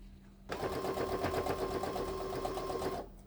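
A sewing machine stitches fabric for a headcovering in one steady, continuous run, starting abruptly and stopping just as suddenly after about two and a half seconds, close up and with no voices.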